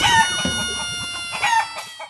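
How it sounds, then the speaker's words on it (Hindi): A rooster crows as a sound effect, loud and close, with a sharp, strained call that breaks into clucking notes and ends in a short final cry. "मुर्गा।"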